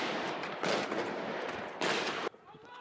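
Rapid bursts of gunfire ring out in a street near a building under attack, two loud broadband volleys of about a second each with sustained crackle between, ending abruptly into quieter ambience.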